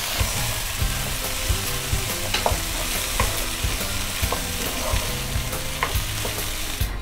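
Onions, tomatoes, curry leaves, mustard seeds and black chickpeas fry in a pan for chana chaat, a steady close sizzle with regular scraping stir strokes running throughout, no voices.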